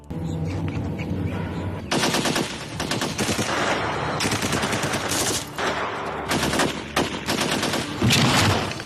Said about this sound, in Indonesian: Pasukannya mengepung ketat, tapi tembakan mereka semuanya meleset.